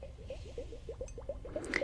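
Close, wet squelching and dripping water made as an ASMR trigger, a steady run of soft, evenly spaced squishy pulses with no talking.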